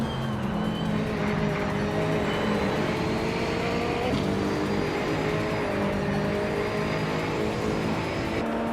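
Several race cars roar off the line together at the Maple Valley track in a racing video game, a dense, steady engine drone with layered revving pitches rising and shifting throughout, loud and continuous with no talk.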